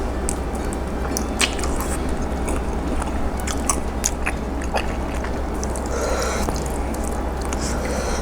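Someone eats Thai khanom jeen rice noodles in a jungle-style fish curry broth with herbs, with steady close wet chewing, slurping and squishing sounds continuing throughout, and almost no talk.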